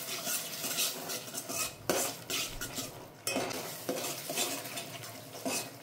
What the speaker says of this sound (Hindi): इन मसालों को भी हम अच्छे से भून लेंगे। 2-3 मिनट का समय लगेगा इनको भूनने में।